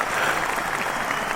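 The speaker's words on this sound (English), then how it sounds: "He's going to give him the super applause." Audience applause at a comedy show, a brief even burst of clapping from the crowd, steady and moderately loud for just over a second.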